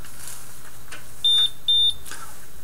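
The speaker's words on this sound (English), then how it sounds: "then you hear two beeps. But if it passes, you just hear one beep." Two short electronic beeps in quick succession, high-pitched and clear, from a Fluke 45 multimeter signalling a low resistor reading, with faint clicks around them.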